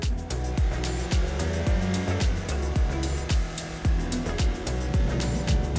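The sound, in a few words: Hyundai i30 N car driving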